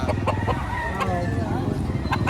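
Roosters and chickens cluck and crow around at a poultry market in Batangas, Philippines, mixed with a murmur of people talking and haggling in a busy, noisy outdoor setting.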